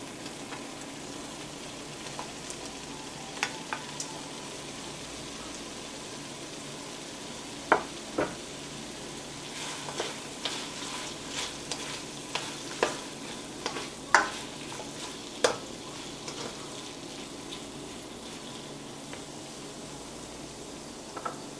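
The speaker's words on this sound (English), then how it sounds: "that is going to fry for about 2 to 3 minutes. Next, I'm going to add in the sweet peppers." Sweet peppers fry in a pan for pepper shrimp, a steady soft sizzle running throughout with scattered clinks and scrapes of stirring, no voices.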